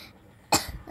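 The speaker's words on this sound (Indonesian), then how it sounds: "Maaf di sini aku agak batuk ya." A single short, sharp human cough, close and loud, rising briefly out of a quiet room.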